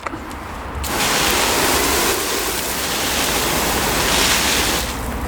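Water sprays from an expanding garden hose's spray nozzle set to the flat pattern, a loud, steady hiss of spray that rises after a quieter start and continues evenly throughout.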